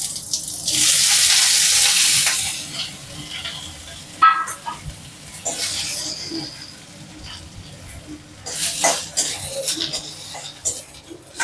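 Fresh mint leaves sautéing in hot oil in a pan, a bright sizzle that starts loud and then settles into lighter crackling and stirring scrapes with uneven bursts.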